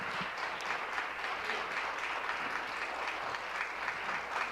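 Steady, dense clapping fills the Ontario legislature chamber during Question Period, a broad even roar of many hands that holds at the same level throughout with no voices breaking through.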